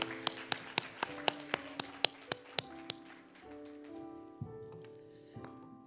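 Applause in a Baptist church: a series of sharp, evenly spaced claps ringing over a sustained organ or keyboard tone, the claps thinning out as the music continues alone.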